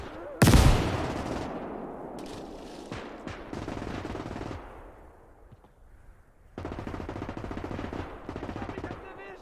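Machine gun fire in WWII game Gates of Hell: a sharp loud blast opens, then sustained automatic bursts with battle noise, a quieter lull, and renewed rapid firing near the end.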